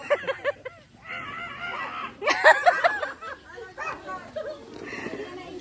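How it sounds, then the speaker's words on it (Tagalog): A large dog barks in deep, repeated bursts at a house party while people nearby laugh and talk over it. "Uy, napakalaking aso yan!"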